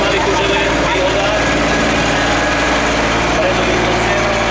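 A Zetor 52 tractor engine runs at a tractor show, a loud, constant mechanical drone that holds steady throughout with no pauses.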